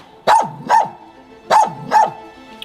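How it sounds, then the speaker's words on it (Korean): Dogs bark in short, loud double bursts at a rundown dog cafe used for illegal breeding, two pairs of close barks separated by a brief pause, with no talking over them. "개 짖는 소리 골목부터 납니다."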